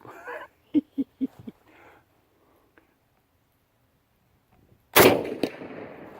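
A Springfield M1A rifle fires at a thick steel disc target: one loud, sharp, close blast with a short ringing tail. It comes after a few brief spoken bursts and a stretch of near silence.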